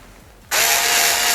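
An INTERTOOL WT-0300 cordless screwdriver starts abruptly after a short quiet moment, then runs at a steady, loud, high-pitched whir close to the listener.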